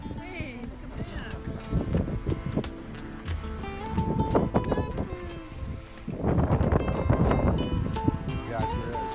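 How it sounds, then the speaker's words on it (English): Strong wind at sea off a cape in Patagonia, heavy gusting rumble and buffeting that swells and eases over several seconds, with people talking and shouting over it and sharp clatters and creaks. "The wind really picked up and the crew hustled us off the Cape."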